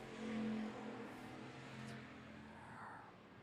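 Race cars roar past on the track during the ReCar 150 feature event, a blended engine drone that swells and then slowly fades, heard faintly from a distance.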